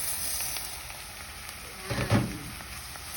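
Rice dropped into a pan of sautéed onions for risotto sizzles softly, a low steady fry with a short louder burst and stir as the grains hit the hot oil.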